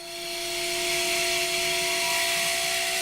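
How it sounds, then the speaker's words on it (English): A hand drill boring a hole through an airbox lid for a custom R33 Skyline intake, a steady high-pitched whine with a constant tonal hum, close and loud, running without pause and no talking. "I'm going to manually or hand drill the hole"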